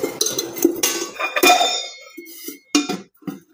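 A metal ladle clinks and knocks against a hot kadai as oil is poured in for garlic chutney. Several sharp, bright clanks come close and loud, separated by short quiet gaps.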